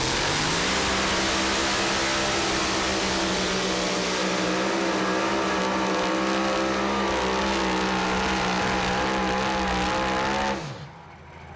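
A super modified two-wheel-drive pulling truck roars at full throttle down a truck pull competition track, its engine revving loud and steady for about ten seconds before cutting off abruptly.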